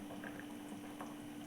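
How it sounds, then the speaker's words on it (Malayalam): A pot of jackfruit curry boils on the stove with a soft, continuous bubbling and gentle liquid simmer, close by and quiet, with no talking. "കടച്ചക്ക കറി ഇവിടെ തിളച്ച് റെഡിയായി തുടങ്ങിയിട്ടുണ്ട്"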